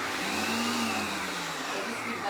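A Magimix food processor pulses a brown onion with a steady, close motor whir and blade churn that runs loudly through the whole stretch.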